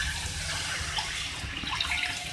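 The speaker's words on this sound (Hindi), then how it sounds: "अब मैं इसमें ग्रेवी के लिए पानी ऐड करूँगी" Water is poured into a pan of aloo baingan gravy, a short, soft, continuous splashing rush at close range with no talking.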